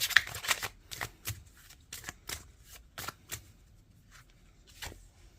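Tarot cards are shuffled and drawn by hand, giving rapid papery riffling bursts in quick clusters, then a few separate flicks and slides as single cards are pulled, close and clear with no talking.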